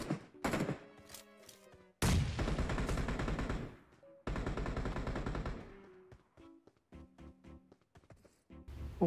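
Gunfire in the PUBG Mobile battle royale game: dense bursts of rapid automatic shots in several loud volleys broken by short pauses, then scattered single and double shots near the end, with no talk.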